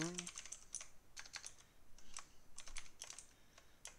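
Rapid keystrokes on a computer keyboard while code is being written, a close, steady clatter of irregular clicks lasting throughout, with no talking.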